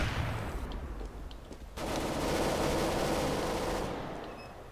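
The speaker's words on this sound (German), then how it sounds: "Ich höre nur Schüsse von hier hinten." Gunfire in the game CS:GO, a dense burst of rapid shots sounding somewhat distant and muffled, with a steady roar of automatic fire in the second half.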